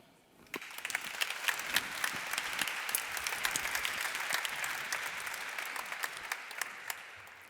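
Audience applause welcoming a speaker onto a stage at a partnership conference, starting abruptly and continuing as steady clapping with sharp individual claps standing out, moderately distant.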